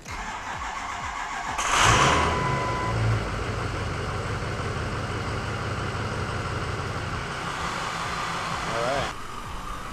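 A 6L diesel engine cranks and fires up about two seconds in, then settles into a loud steady idle that runs on without a break. Faint talk is heard over it.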